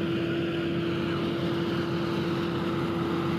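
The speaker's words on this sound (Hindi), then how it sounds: "देखें जी फीएट 480 बहुत मज़बूत मॉडल है, 2014 मॉडल है और गाड़ी बड़ी मज़बूत है। इसका इंजन भी मज़बूत है" A 2014 Fiat 480 tractor engine runs steadily while driving a threshing machine, a loud, even drone with a constant hum and no change in speed, and no one speaks.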